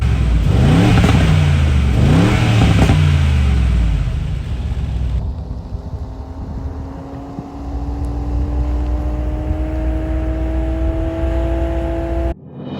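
The engine of a 2021 Mercedes-AMG G63 SUV in Sport Plus mode revs hard, then accelerates with a rising whine that climbs steadily in pitch, loud and close, with no talking.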